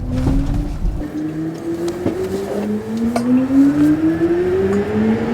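A whining electric motor tone sweeps steadily upward as a 2022 BMW iX electric car accelerates, with road rumble and a few clicks underneath, no talking.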